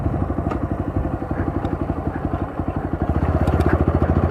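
A motorcycle engine runs on the move with a steady, rapid, thumping exhaust pulse, close and loud, rising slightly toward the end.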